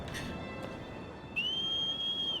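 A whistle in Shadow of the Colossus gives a single clear, sustained high tone that starts partway through and holds to the end, with faint background noise before it and no talking.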